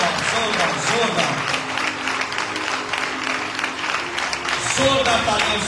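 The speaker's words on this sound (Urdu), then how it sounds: "آؤ زندگی کے لیے زوردار تالیاں بجائیں." A church congregation gives loud, sustained applause at a worship service, a dense wash of clapping that runs steadily for several seconds with a few voices mixed in.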